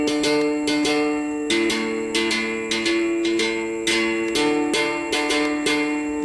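Single-wire plucked string instrument, its long wire divided into two sounding sections, struck in an irregular run of bright twangy notes that ring and overlap, close and clear with no talking.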